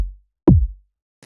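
Synthesized drum and bass kick drum in Logic processed with EQ, overdrive and a limiter, producing a tight, punchy single hit with heavy low end, following the tail of a previous hit and a faint brief click.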